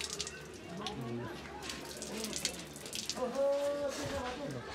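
Water streams steadily from a traditional stone spout (hiti) at the Halesi Mahadevsthan area in Khotang, a continuous splashing flow heard close by while people talk over it.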